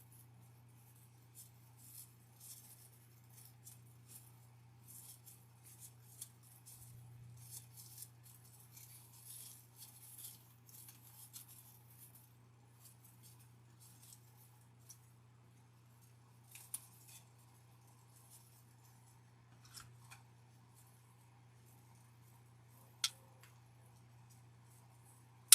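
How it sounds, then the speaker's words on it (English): Scissors snip through wreath decor material to cut it into smaller pieces, a quiet run of crisp cuts at close range over a steady low hum, with a few sharper snips standing out. "I have to cut this one up into a little bit smaller pieces."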